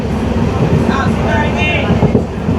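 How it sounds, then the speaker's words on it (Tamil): The Sapthagiri Express to Tirupati rumbles steadily with a low, continuous rolling noise and some faint squealing tones. Someone talks over it throughout. "இதுதான் நம்ம போகிற ட்ரெயின் சப்தகிரி எக்ஸ்பிரஸ்"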